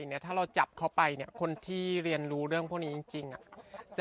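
Roosters cluck and make drawn-out calls up close, several vocalizations in quick succession.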